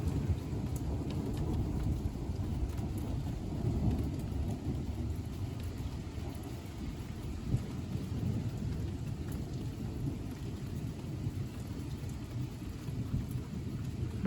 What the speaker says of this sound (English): Not much rain, but lots of thunder and lightning.